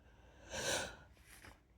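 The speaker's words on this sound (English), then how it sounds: "Just saying yawn made me yawn." A single drawn-out yawn, a breathy swell that rises and fades over about a second, followed by a softer exhale.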